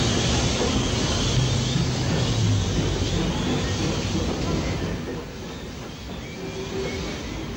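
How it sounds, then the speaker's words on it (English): Swindon-built Ivatt Mogul steam locomotive 46507 arriving at Brecon station with a train from Hereford in 1962, a loud, continuous rumble of rolling wheels and carriages that eases off toward the end. "Swindon-built Ivatt Mogul 46507 arrives at Brecon with the 4:05 p.m."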